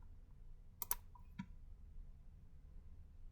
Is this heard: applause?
no